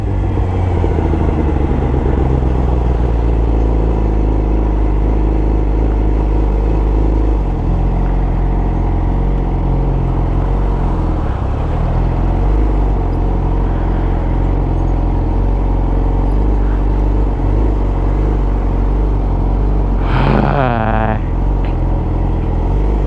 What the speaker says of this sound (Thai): แต่วันนี้รถเยอะจริงว่ะ